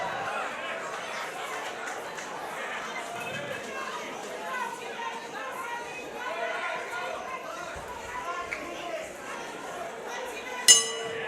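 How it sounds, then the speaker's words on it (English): A large crowd murmurs and chatters steadily throughout, a broad indoor hum of many voices, with a sharp clink near the end. "listen to the crowd. Listen to the crowd"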